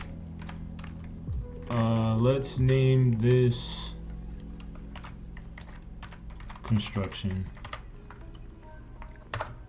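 Keys clatter on a computer keyboard reached over from behind a drawing tablet during a portrait sketch, as a burst of clicks sits under nearby talk, followed by sparser taps.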